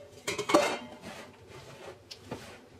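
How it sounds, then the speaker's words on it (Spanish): Orange cake batter with flour being stirred in a bowl, a few knocks and scrapes of a utensil against the bowl, close and clear, with quieter gaps between strokes and no talk. "Así que vamos removiendo, tratando que no nos quede harina en las paredes del recipiente y en el fondo, y agregamos el resto de la harina."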